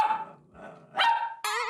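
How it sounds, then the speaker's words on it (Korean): A small dog barks in a relentless indoor series of sharp, loud yaps, several quick barks in succession with brief pauses, close to the listener and with no voices over it. "칸초의 짖는 소리는 자동차의 경적 소리와 맞먹는 소음입니다"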